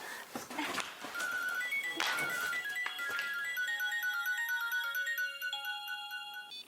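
A mobile phone ringtone plays a bright, repeating electronic melody, fairly quiet and alone, after a few soft knocks and movement sounds at the start.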